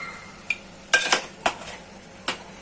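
Spoon mixing coriander powder and spices together in a metal cooking pot, a handful of close clinks and scrapes in an uneven rhythm against a quiet background.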